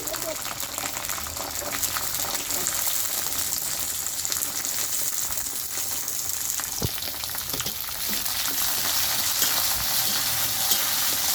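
Garlic frying in hot oil in a pan with mustard seeds and curry leaves for mango pickle, a loud continuous sizzle and crackle with occasional stirring scrapes throughout.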